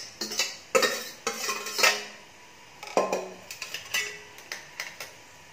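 Beetroot soup is strained through a metal sieve, giving light clinks and taps of a utensil against metal in an uneven rhythm, close and fairly quiet, with no voices.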